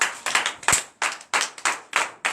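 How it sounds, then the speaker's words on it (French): Congregation at a morning prayer service in Benin clapping in uneven bursts, several quick rounds of hand claps with short pauses between them, close and clear with no talk. "Veuillez vous lever et donner de vives acclamations au Seigneur"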